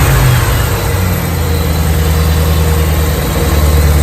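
A supercharged 2005 Ford Mustang GT, a wreck survivor rebuilt to 450 hp, runs close by with a loud, steady low rumble and constant engine drone.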